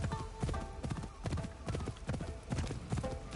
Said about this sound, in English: I'm riding on a horse and I'm following this path